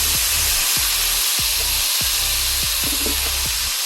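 Chopped tomatoes tipped into a hot pan over ginger-garlic paste while cooking mutton curry, giving a steady loud sizzle with a series of low thuds and clunks.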